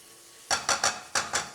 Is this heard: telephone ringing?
no